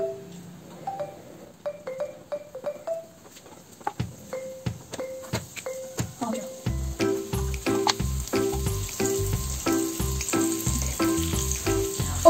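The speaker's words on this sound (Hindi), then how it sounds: "अभी मैं थोड़े अनियंस डालने वाली हूँ पहले कुक होने के लिए" Onions frying in oil in a pan for a sandwich give a steady close sizzle, heard beneath louder background music with a rhythmic beat and melodic notes, with no talk.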